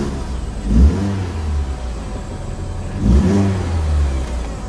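A 2005 Mini Cooper R50 engine runs steadily up close, with two brief swells in revs over a continuous mid-range hum.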